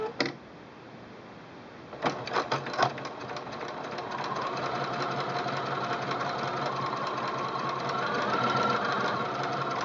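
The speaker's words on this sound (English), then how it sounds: "I'm going to start to sew a straight stitch" A Singer Quantum L-500 sewing machine runs a straight stitch, a steady continuous motor whir that starts after a few clicks and builds slightly, close and alone.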